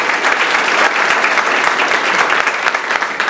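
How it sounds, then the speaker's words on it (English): A crowd applauds steadily, dense clapping at full volume throughout with no voices. "I want to give Reverend Karen a great round of applause for her continued leadership."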